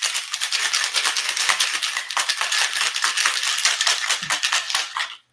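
Rapid, continuous rattling and clinking of ice inside a cocktail shaker, shaken hard and steadily for several seconds, close and loud, stopping abruptly at the end.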